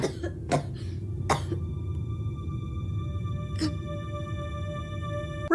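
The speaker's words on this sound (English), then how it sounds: "putting on the fakest display of coughing in the history of" A character in the episode "The Tale of the Dollmaker" gives an exaggerated, fake coughing display: a few short, sharp coughs spaced irregularly over a few seconds, set against quiet sustained background tones.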